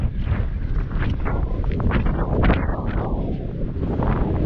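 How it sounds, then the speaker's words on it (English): Strong wind blows outdoors at a concrete military site, buffeting the microphone with loud, continuous low rumbling gusts and no speech. "Dang, it's windy out here."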